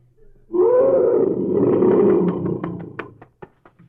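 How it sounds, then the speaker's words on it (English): A lion lets out a single loud, close roar that swells and holds for a couple of seconds, then trails off into a series of short, rhythmic grunts. "When a lion growls like that, he doesn't mean any trouble. But when he roars, that's when the cowards climb the trees."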